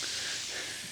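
Freshly poured Dr Pepper Blackberry soda fizzing in a glass, a close, continuous hiss of bubbles with no pauses.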